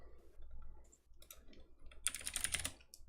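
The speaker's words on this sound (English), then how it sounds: "We're typing to our mods in the side chat." Soft computer-keyboard typing plays during a live talk show, with scattered quiet key taps leading into a brisk, louder flurry of clicks near the end over a low background hum.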